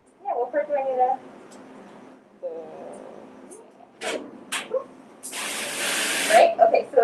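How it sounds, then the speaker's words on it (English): Water spraying from a sink hose shower head to keep the temperature steady, heard as bursts of hissing spray, the longest and loudest near the end, with people talking over and between the bursts. "In order for it to get to the temp I want, I have to keep a continual spray."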